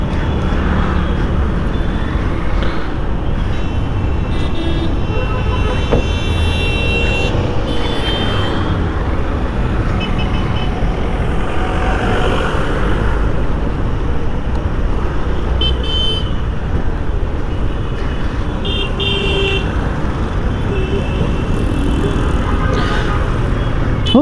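A 2025 Honda SP 160 motorcycle's engine runs steadily while riding through road traffic, with passing vehicles and occasional horn toots around it.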